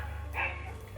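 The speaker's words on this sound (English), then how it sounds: "those dogs you can hear are from outside my house" Dogs bark outside a house, the brief yapping heard faint and distant beneath a steady low hum in a kitchen.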